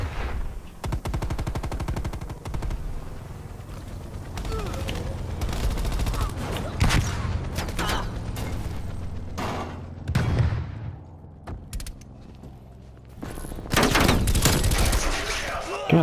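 Bursts of rifle and automatic gunfire in a Call of Duty multiplayer match, including sniper fire from rooftops, crack out repeatedly over a steady battle din, with short quieter gaps and a player talking between shots.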